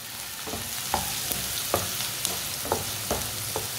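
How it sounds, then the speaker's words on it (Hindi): Finely chopped onion frying in a pan for an egg recipe, a steady sizzle punctuated by regular spatula scrapes and taps about every half second, close and alone. "एक बारीक कटा हुआ प्याज डालेंगे। प्याज को मैंने ज्यादा बारीक काटा है। 2 मिनट के लिए इसे पका लेंगे।"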